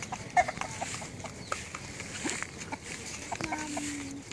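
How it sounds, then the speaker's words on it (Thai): Chickens cluck in short, scattered calls over a low rustling background, with a few brief sharper squawks mixed in. "ดูไก่นะครับ"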